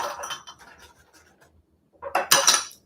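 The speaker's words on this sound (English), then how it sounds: "So I just put 4 ice cubes." Four ice cubes drop into a glass for a homemade Starbucks Pink Drink, giving a loud cluster of sharp clinks and rattles after a stretch of quieter scraping.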